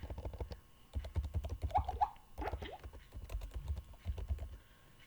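Rapid keystrokes on a computer keyboard while someone fills in an online school registration form, a steady patter of clicks in short bursts with brief pauses, fairly close and quiet.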